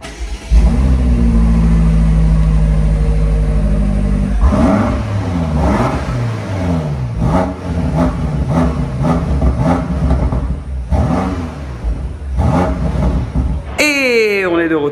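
A BMW M8 Competition engine starts and revs, a loud close idle followed by repeated rising and falling throttle blips in quick succession, with a brief voice near the end.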